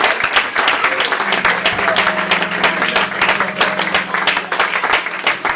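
A church congregation applauds and cheers steadily and loudly, dense clapping mixed with voices and a sustained organ or keyboard tone underneath.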